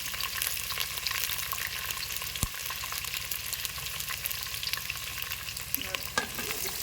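Onions and green chillies frying in a pan, a steady close sizzle and crackle with scattered pops and occasional stirring scrapes, no voices.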